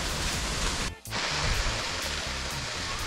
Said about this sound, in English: Just when you think it can't get any better, the sound of a waterfall.